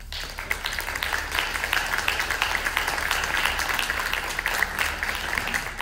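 An audience at a town hall meeting applauds in a steady, moderately distant burst of clapping lasting several seconds.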